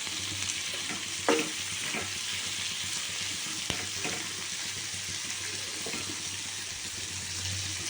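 Tamarind chutney sizzling and frying in a pan on the stove while being stirred, a steady close hiss with occasional scraping clatters of the spoon against the pan.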